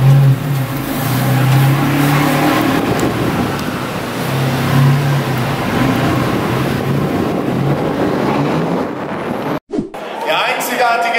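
A car exhaust revving inside a Berlin parking garage, with engine roar and echoing surges under people talking, then a sharp cutoff near the end.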